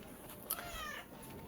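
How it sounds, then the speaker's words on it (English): A cat gives a single faint meow, quiet and brief, against a soft background hiss. "Fucking cats, am I right?"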